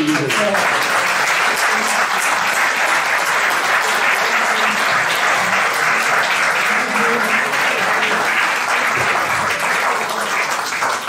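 Loud, dense audience applause after a lecture on French industry and energy, continuous and even for about eleven seconds with a close, full crowd sound.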